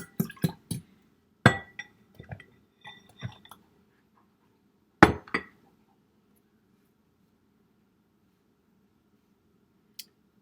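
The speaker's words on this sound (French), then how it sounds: "Je vais brasser un peu avant pour mélanger comme il faut la levure" A utensil clinks and scrapes against a bowl while yeast mixture for gluten-free bread is stirred, a handful of sharp irregular taps close by before falling mostly quiet, with one last faint tap.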